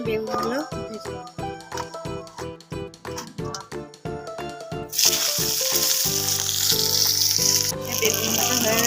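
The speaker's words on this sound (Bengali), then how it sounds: "এই তেলের মধ্যে বেগুনগুলো ভেজে নেব।" Eggplant pieces go into hot oil and start a loud, close hissing sizzle that fills the second half, after a stretch of bright rhythmic background music.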